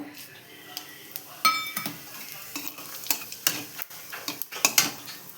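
Spices for tempering crackle and sizzle in hot oil in a kadai, with scattered pops and scraping stir sounds, fairly close and moderately quiet.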